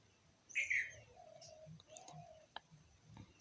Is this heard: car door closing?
no